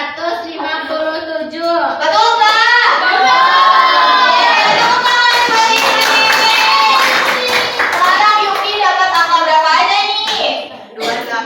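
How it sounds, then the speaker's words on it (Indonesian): Children in an Indonesian elementary classroom clap and cheer together for a classmate, a loud, sustained burst of applause mixed with excited young voices and shouting, lasting about ten seconds before fading. "Tepuk tangan buat Indri."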